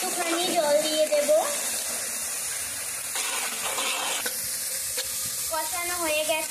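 Ground cumin, chili powder and salt fry in a pan while being stirred, a close, steady sizzle with scraping strokes, and a voice speaks briefly near the start and again at the end.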